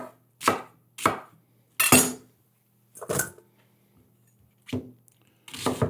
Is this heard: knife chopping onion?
yes